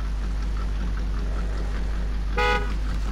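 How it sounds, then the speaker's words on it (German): A truck horn honks once, a short, loud, tonal blast in the MudRunner American Wilds off-road game, sounding over a steady low engine rumble. "Das ist die Hupe."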